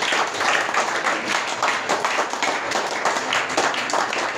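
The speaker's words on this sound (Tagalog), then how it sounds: "Yung mayaman na palakpak para sa ating pong Panginoong Hesukristo." Congregation applauding at a church Sunday school service, a dense, steady burst of many hands clapping together that fills the room evenly.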